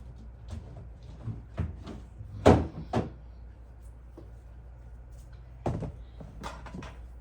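A kitchen cupboard door being opened and shut during muffin baking, giving a few close wooden thunks and knocks with a louder bang in the middle, separated by quiet handling sounds.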